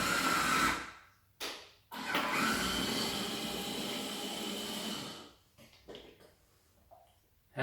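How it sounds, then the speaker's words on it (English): A DNA electric citrus juicer whirs loudly as it squeezes an orange half, a steady motor drone running about four seconds after two short bursts, then stopping into faint clicks. "slot your orange into the juicer and press 1 button."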